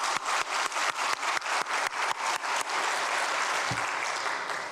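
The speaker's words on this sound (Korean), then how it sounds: "박수 해주시기 바랍니다" Church congregation applauding at an Easter service, a burst of dense clapping with sharp rhythmic claps at first that settles into a steady, sustained wash of applause.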